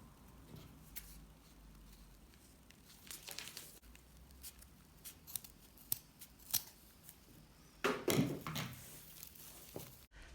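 Scissors cut through raffia bag material in a quiet room, with a series of faint, crisp snips and rustles that grow denser and louder toward the end.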